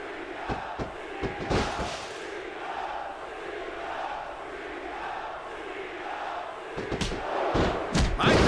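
A wrestling arena crowd roars steadily in WWE SmackDown vs Raw 2006, with sharp thuds and slams cutting through the cheering, loudest near the end.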